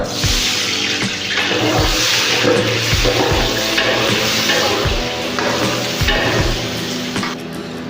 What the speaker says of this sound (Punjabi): ਲਓ ਜੀ ਤੇਲ ਆਪਣਾ ਹੋ ਗਿਆ ਹੁਣ ਪਾਉਂਦੇ ਆ ਚ ਪਿਆਜ਼